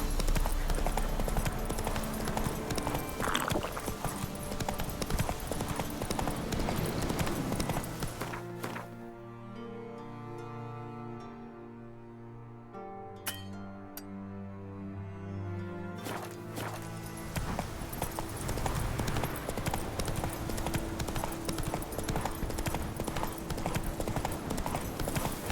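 Horse hooves galloping in The Witcher 3, rapid continuous clip-clop through most of the stretch, dropping to a muffled, quieter passage midway before the loud pounding returns.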